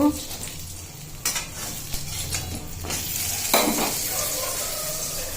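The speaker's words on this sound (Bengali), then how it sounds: "খেয়ে বেগুন ভাজতে চলে যাবো" Eggplant slices rubbed with salt and turmeric sizzle steadily in a frying pan, close and constant, with occasional stirring scrapes and light clinks of a utensil against the pan.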